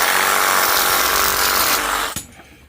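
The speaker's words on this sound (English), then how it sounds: "how the fuck do you handle that Sawzall with one arm?" A Sawzall reciprocating saw cuts through scrap metal, a loud, steady buzzing rasp that runs continuously for about two seconds, then stops abruptly, leaving a brief clatter and quiet.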